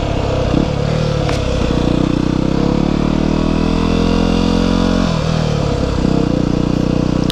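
A Yamaha WR250R motorcycle engine revs hard and loud during a slippery wheelie attempt on a road, a steady high drone with a brief dip and surge near the five-second mark, wind buffeting throughout.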